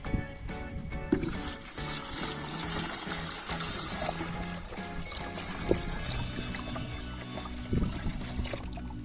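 Water from a borehole pours and trickles steadily into a container, about 5 liters for homemade currant wine, a continuous splashing stream with small bubbling variations throughout.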